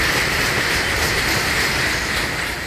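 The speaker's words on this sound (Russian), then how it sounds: "когда прибывает долгожданный поезд и двери вагона открываются" A train rolling into the station platform at Zhmerynka, Ukraine, with a steady, loud, broadband rumble of wheels and carriages that holds constant throughout, without voices.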